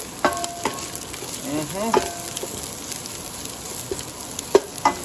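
Steady sizzling of food frying in a pan, with occasional clinks and scrapes of stirring over the crackle.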